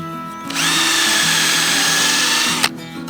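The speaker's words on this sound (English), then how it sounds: "make sure the battery on your drill is full, especially before screwing in lag screws" A cordless drill driving lag screws whirs steadily for about two seconds, its motor pitch rising as it spins up, then cuts off with a click, close and loud.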